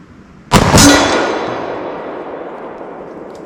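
A single loud Colt 1911 pistol shot fired on an outdoor range at about 60 yards, a sharp crack followed by a long fading echo.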